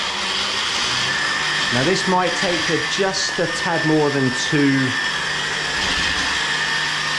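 A blender whirs steadily throughout as it blends a three-ingredient strawberry protein shake, a loud, constant motor drone with a person talking over it.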